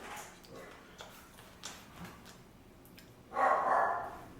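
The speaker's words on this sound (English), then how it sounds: "They tell us when someone's at the door." Pet dogs barking at someone at the door: a few scattered distant barks, then a louder, closer burst of barking near the end.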